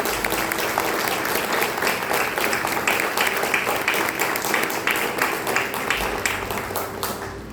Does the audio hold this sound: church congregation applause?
yes